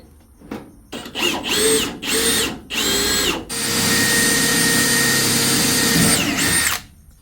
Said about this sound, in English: I want to drill it straight.